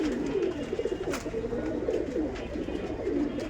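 Pakistani and local Bangladeshi pigeons at a pigeon market in Gollamari, Khulna coo in soft, low, bubbling murmurs that continue steadily throughout, close by, with no talking.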